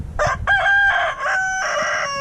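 A hybrid or breed rooster crows loudly and close by in one drawn-out, wavering call with short breaks, standing alone with no talking.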